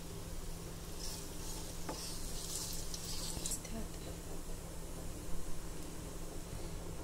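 Cumin seeds and a bay leaf sauté in hot oil in a kadhai for restaurant-style kadhai paneer, giving a steady soft sizzle with light crackles and an occasional stir or clink, fairly quiet and close.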